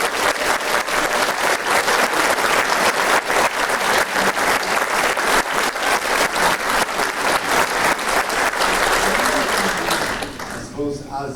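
Sustained audience applause after a lecture, loud and dense with steady clapping for about ten seconds before tapering off, with a voice beginning to speak at the end.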